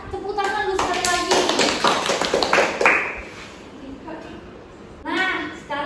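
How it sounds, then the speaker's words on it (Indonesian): Children clap their hands together in a classroom, a burst of quick taps in the first seconds while a teacher's voice talks over and after them. "Tepuk tangan dulu sekali lagi."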